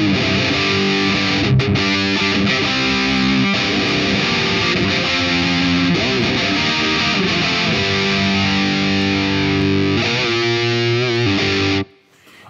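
Distorted electric guitar played through a ToneX amp model with the mids cut around 750 and the bass boosted at 120, a steady loud riff with chugging palm-muted chords that stops abruptly near the end.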